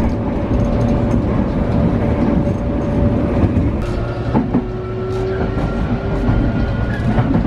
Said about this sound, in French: Le train est là normalement.